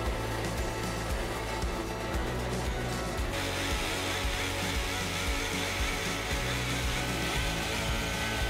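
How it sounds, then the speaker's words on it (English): A wire brush, likely power-driven, polishes a solid bronze casting of a T-Rex tooth, giving a loud, steady whirring and scratching grind that runs unbroken throughout. "I used a wire brush to shine up the casting"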